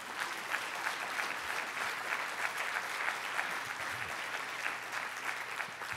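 Conference crowd gives a sustained round of applause during opening remarks, many hands clapping at an even, moderate level from start to finish.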